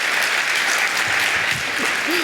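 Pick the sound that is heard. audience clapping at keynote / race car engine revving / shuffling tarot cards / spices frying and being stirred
audience clapping at keynote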